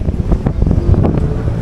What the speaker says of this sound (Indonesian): suaranya tertutup sama angin juga ya